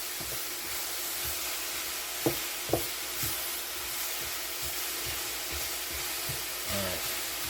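Leeks sweat in a pan with a steady, moderate sizzle, broken by soft rhythmic scrapes and a couple of sharper clicks as they are stirred, with no voices.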